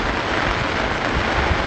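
Rain falls steadily in a village, a dense, even hiss of drops close by with no breaks or voices.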